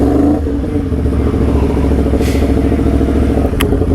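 A Yamaha MT10 motorcycle engine revs while riding, loud and close, with a steady throbbing drone that rises and shifts in pitch. A brief sharp click comes near the end.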